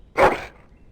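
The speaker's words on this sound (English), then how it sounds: "That is a wonderful dog." A dog in the Dragon Age: Origins video game lets out one short, loud, close bark that cuts off quickly into quiet.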